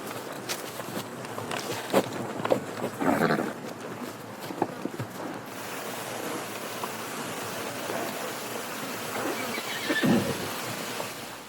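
A horse whinnies outdoors in the Scottish Highlands, two fairly loud neighs standing out over steady wind and ambient noise, with faint hoof movement in between.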